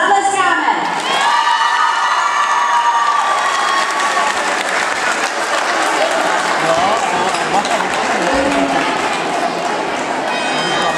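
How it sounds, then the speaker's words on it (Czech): A large audience bursts into loud, sustained applause and cheering for dance competition winners, with whoops and children's shouts mixed into the dense clapping crowd. "a my jim zatleskáme"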